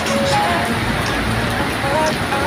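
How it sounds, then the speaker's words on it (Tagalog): Sudden heavy rain pours down on the streets of Mong Kok, Hong Kong, a dense, steady hiss of drops drumming on surfaces, loud and close, with a voice faintly speaking over it. "lakas ng ulan ito"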